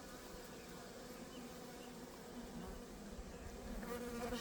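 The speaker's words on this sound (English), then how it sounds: "See how the bees kind of gather around her?" Honey bees buzz steadily around a queen on a hive frame, a dense, continuous low hum that holds throughout and swells slightly toward the end.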